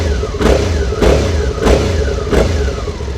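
Stock exhaust on a Suzuki V-Strom 650 motorcycle running steadily with a low, fairly quiet drone, swelling in four regular pulses about two-thirds of a second apart, with no voices.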